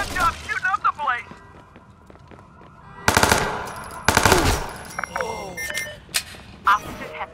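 Gunfire in the video game Watch Dogs 2: two loud, dense bursts of rapid automatic shots a second apart, with scattered sharp reports, game effects and voice lines around them.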